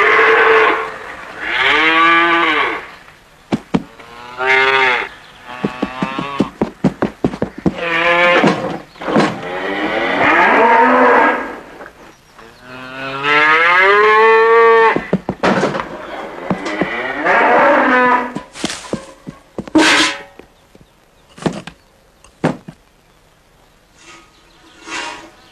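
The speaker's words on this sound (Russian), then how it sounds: "да любимая корова Егоровна." Several long, loud cow moos with pauses between them, followed by a string of short, sharp sounds near the end.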